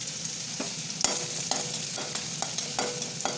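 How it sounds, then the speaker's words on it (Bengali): Whole spices and chilli tempering in hot oil in a pan for Bengali shukto with bitter gourd, a steady faint sizzle broken by several sharp stirring clinks and scrapes, close by with no talking. "তো আমি এবার তেলটা গরমটা আছে তেলটা একটু কালো উচ্ছার ভাজার জন্য তো এবার আমি একটু ফোড়ন দিয়ে দিলাম"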